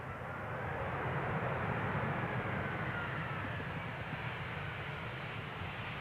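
An Aer Lingus airliner arriving on runway 18R at Amsterdam Schiphol makes a broad, steady jet roar that stays faint and distant throughout, with no talking.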